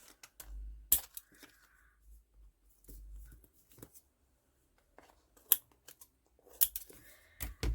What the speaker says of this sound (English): let's just trim the acetate off